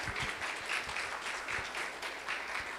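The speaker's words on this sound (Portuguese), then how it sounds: "Uma salva de palmas para o meu amigo." An audience claps to welcome Wilson Andrade, executive director of ABAF, to the stage at a forestry planning event; dense, continuous applause with a few sharper individual claps standing out, with no voices.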